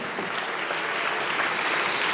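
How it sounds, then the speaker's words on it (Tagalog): A church congregation claps together for God during a sermon, a steady, dense wash of applause that holds evenly for about two seconds. "Lahat tayo sama-samang pumalakpak sa Diyos"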